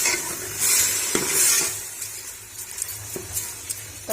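Whole brown lentil masala with whole garam masala and yogurt fries in a pan: a steady close sizzle with a spoon stirring, scraping and occasionally clinking against the metal, and no talking.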